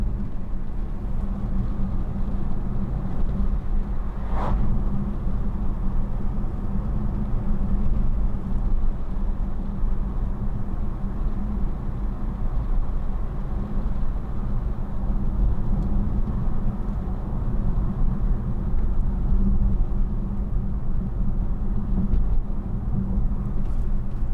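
2015 BMW i3 electric car with range extender accelerating around a corner, a steady low road and motor hum with tyre rumble continuing evenly throughout, fairly loud, with no talking.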